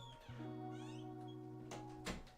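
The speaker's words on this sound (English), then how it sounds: "And now my cat wants back in." A house cat meowing to be let back indoors, with one drawn-out, quiet, tonal meow that holds steady for nearly two seconds before a brief shuffle or thump near the end.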